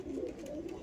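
Madrasi pigeons coo softly and steadily in a home loft, a low continuous murmur with no voices.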